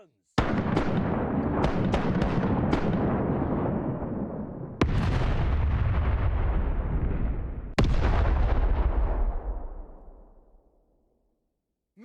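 Rapid cannon shots from pirate ships in a Mount & Blade/Sid Meier's Pirates game, then two more heavy blasts, each booming loud and trailing a long rumble that fades to silence at the end.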